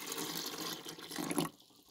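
Water pours steadily into the reservoir of a countertop nugget ice maker, a soft splashing trickle that stops abruptly near the end, heard alone and fairly quiet.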